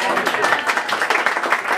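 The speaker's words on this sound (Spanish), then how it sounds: "Un aplauso bien fuerte, bien lindo para ella." Guests applauding at a quinceañera celebration with a mariachi band, a short burst of close, lively clapping with speech mixed in.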